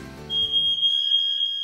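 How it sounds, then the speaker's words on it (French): A household smoke detector sounds a loud, steady high-pitched electronic beep that starts abruptly and holds, heard up close with no voices. "Son alarme sonore se met en marche dès l'apparition de fumées suspectes"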